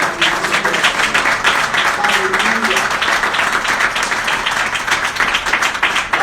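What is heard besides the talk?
church congregation applauding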